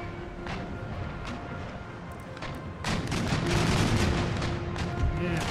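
Ship cannons fire round shot in a naval battle in Empire Total War: a dense, rumbling barrage of heavy booms that overlap into a continuous roar, swelling louder midway and staying heavy to the end.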